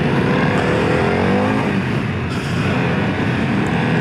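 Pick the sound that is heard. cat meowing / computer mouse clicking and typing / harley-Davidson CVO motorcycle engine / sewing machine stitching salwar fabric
harley-Davidson CVO motorcycle engine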